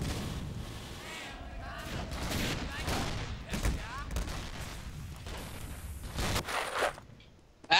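Gunfire in the video game Dino D-Day, bursts of shots and rapid fire crackling through most of the stretch, loud and close, with some talk mixed in.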